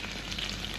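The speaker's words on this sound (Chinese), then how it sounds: "再煎上两分钟啊" Stuffed long green chili peppers pan-frying in oil, a steady close sizzle heard alone for a brief moment.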